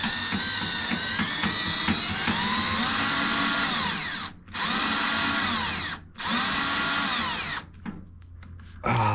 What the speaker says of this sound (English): I just need to drill them out